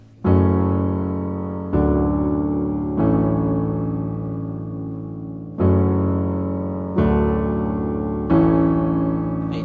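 Piano chords playing a song, six struck chords at a slow, even pace, each ringing and decaying before the next, clear and alone.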